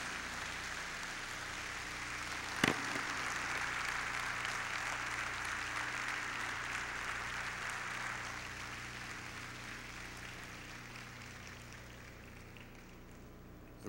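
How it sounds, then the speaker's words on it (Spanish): A church congregation applauds during a Spanish-language communion service, a steady even wash of clapping with one sharp knock partway through, moderately loud and continuing without speech. "¿Qué te parece si ese aplauso al Rey de Reyes y Señor de Señores se lo"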